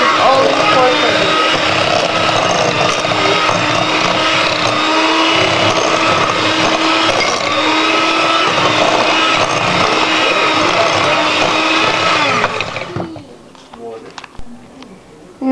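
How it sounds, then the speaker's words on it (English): An electric mixer creaming butter and sugar for blueberry muffin batter, a loud steady whirring drone that runs continuously and then cuts off near the end, leaving a few quiet clinks. "to cream the butter and the sugar together"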